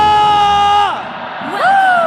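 Arena crowd at a Mobile Legends esports grand final in Jakarta International Velodrome, loud whooping and cheering voices rising and falling in sustained, close yells.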